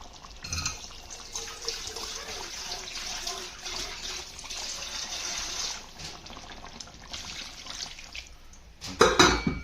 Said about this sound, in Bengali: আর একটু জল দিতে হবে, তাহলে আর একটু পাতলা হবে।